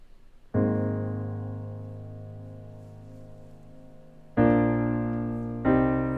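Simple piano part played in Logic: a sustained chord rings out and decays slowly, followed by two more struck chords near the end.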